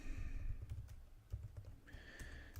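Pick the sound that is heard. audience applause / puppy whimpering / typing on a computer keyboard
typing on a computer keyboard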